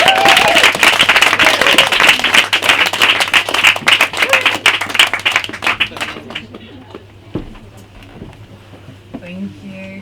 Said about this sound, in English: first time at Word Asylum, so a warm round of applause for Hilde, please.